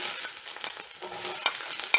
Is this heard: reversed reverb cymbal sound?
no